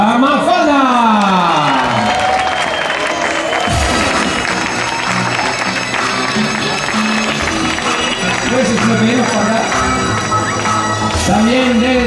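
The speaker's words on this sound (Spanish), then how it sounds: "pues bien, gente, que de fuerte aplauso para Mafalda" A crowd at a tribute show applauds and cheers for a performer, loud and continuous clapping with whoops, while announcer-style speech and music sounds mix in over the top.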